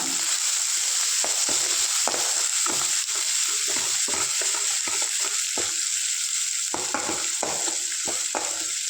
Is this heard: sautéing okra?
yes